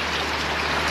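Heavy rain pouring steadily in a dense, loud hiss of drops striking surfaces, close and continuous over a brief stretch.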